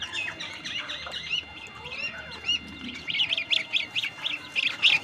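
Newly hatched chicks peep in quick, high, repeated chirps that grow denser and louder toward the end, close by in a quiet yard.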